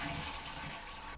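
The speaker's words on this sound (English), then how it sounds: "Flush the toilet." A close coupled toilet flushing nearby, a continuous rushing gush of water that fills the room and holds steady without voices.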